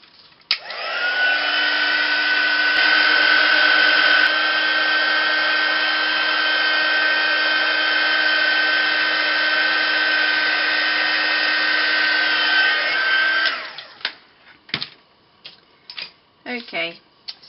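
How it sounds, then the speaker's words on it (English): A heat tool drying ink on a mixed media tag card blows with a steady, loud whine and fan roar for about thirteen seconds, then cuts off, followed by light handling clicks and taps. "I am just going to heat dry that now."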